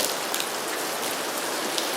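Steady rain falls outdoors in a dense, even hiss of drops on surfaces, with a few sharper patters standing out, continuous and fairly close, with no voices.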